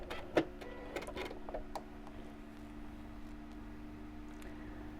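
A sewing machine stitches a seam: quick bursts of stitching in the first two seconds, then a faint, steady motor whir continues to the end.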